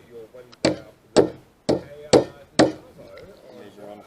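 A hammer drives a peg into roof timber on a building site, five sharp, evenly spaced knocks ringing close by with faint talk between them.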